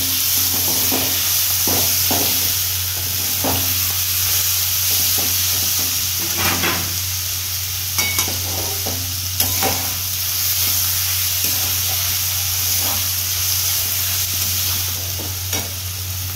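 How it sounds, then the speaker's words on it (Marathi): Spring onion greens and chickpeas sauté in oil, a loud steady sizzle filling the scene, with irregular scraping stirs of a spoon against the pan scattered throughout, close up and without talk. "तर आपण चांगल्या प्रकारे त्याला परतून घेतोय तेलामध्ये"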